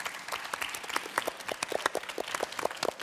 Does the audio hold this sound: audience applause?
yes